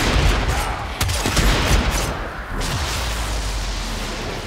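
A grenade launcher fires in Warframe, its heavy booming discharges landing about a second or so apart over a dense, continuous rumble of combat noise, loud and near.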